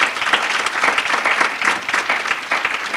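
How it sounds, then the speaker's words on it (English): Steady, close applause from an audience at a Black History Month program, clapping for dancers, dense and even with a faint crowd murmur. "Can we give them another round of applause, please?"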